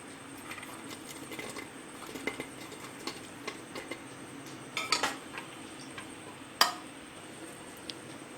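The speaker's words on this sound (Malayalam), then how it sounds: "ഇനി നമുക്ക് ഫ്രൈ ചെയ്ത് വെച്ചിരിക്കുന്ന കാഷ്നട്ടൊക്കെ ഇതിലേക്ക് ഇട്ട് കൊടുക്കാം" Fried cashew nuts are tipped into semiya payasam in a pressure cooker and stirred, giving light, scattered clinks and taps of a spoon on metal, with one sharper knock, quiet and close.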